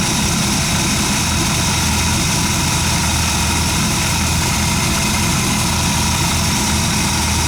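A 1957 Chevy engine idles after a cold start, a loud, steady rumbling drone with a constant low throb, close by and uninterrupted throughout.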